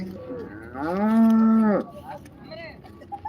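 A cow at a cattle market lets out one loud, drawn-out moo lasting about a second, nearby. Market chatter and background noise surround it.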